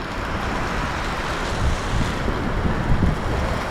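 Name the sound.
wind and rain during a storm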